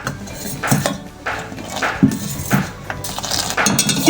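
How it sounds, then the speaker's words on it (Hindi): A metal spoon repeatedly clinks and scrapes against a pot while tea leaves are added for karak chai, giving a steady run of close, bright taps and rattles. "पत्ती मुझे कम लग रही है तो मैं थोड़ी सी और डालूंगी उसके अंदर।"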